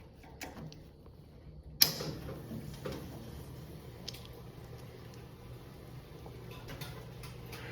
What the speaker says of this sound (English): We heard the boiler relay click on and now we have ignition.